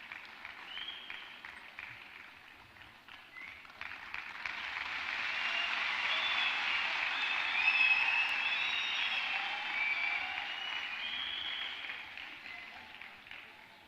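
A crowd at a national youth festival applauds to welcome Reverend Dr. Ranjith Ophir; the clapping swells gradually to a sustained roar and then eases slightly, with faint tonal sounds over it.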